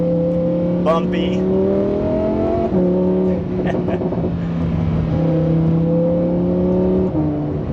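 Lamborghini engine in Corsa mode heard from inside the cabin, a loud steady harmonic drone climbing through gears with abrupt shift breaks, while occupants talk over it.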